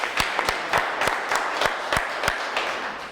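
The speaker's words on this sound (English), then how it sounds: "Give yourself a round of applause." Audience at a gun buyback crowdfunding event applauds, with scattered sharp individual claps standing out over a steady bed of clapping from a modest crowd.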